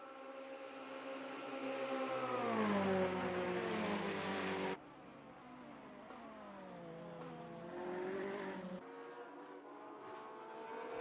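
A Ferrari 488 GT3 race car engine in a racing video game at Thruxton, revving hard with rising and falling gear-shift sweeps, loud and close, with a sharp drop in pitch midway before climbing again.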